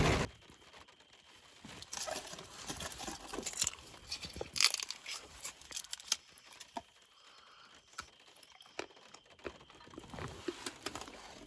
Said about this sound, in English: Eating peanut butter cups.